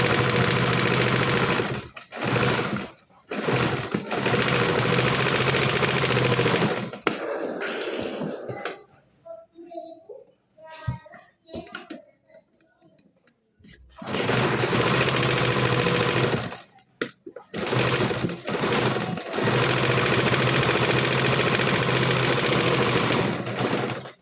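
Sewing machine stitching the lining of a frill dress, running in long loud bursts that stop for a quieter stretch of cloth handling midway before the motor starts up again.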